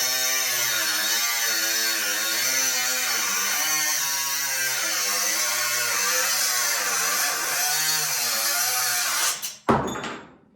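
A small Ryobi cutoff tool runs loud and steady, its pitch wavering as the cut loads and eases, then it cuts off abruptly near the end with a brief clatter.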